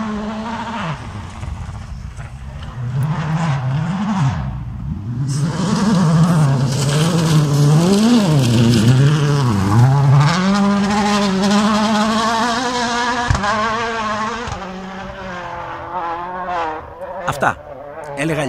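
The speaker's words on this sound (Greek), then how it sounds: "ευτυχώς και πάλι που ακούμε στα βουνά εξατμίσεις" Toyota WRC rally car on a test run in Greek mountains, its engine loud and close, revs rising and falling through gear changes as it passes, with the exhaust note swelling and fading over about eighteen seconds.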